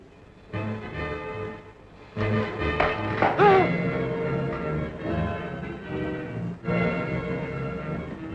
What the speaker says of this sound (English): sound the final note which completes the marriage ceremony